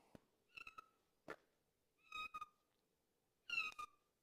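A cat meows several times inside a workshop, the harmonic calls coming in short bursts with pauses between them, fairly close and clear against a quiet background.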